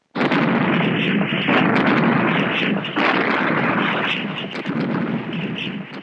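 A naval gun fires aboard the warship HMAS Hobart off the New South Wales coast during gunnery work-up, a loud, close, sustained roar of blasts rolling together with wind buffeting over it.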